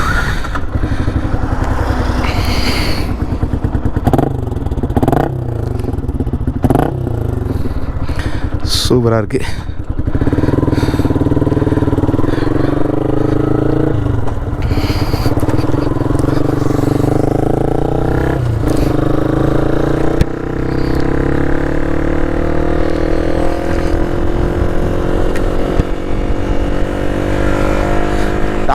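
A restored Yamaha R15 V2 motorcycle on a test ride: a steady, loud engine drone whose revs climb and shift through the run, with someone talking over it.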